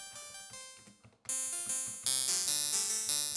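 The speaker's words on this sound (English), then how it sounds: "Apparently that's the sound of the clip empty rifle." Empty rifle clip click sample played on a synth as a C major chord, giving repeated pitched, ringing metallic hits in a steady rhythm, growing louder and brighter partway through.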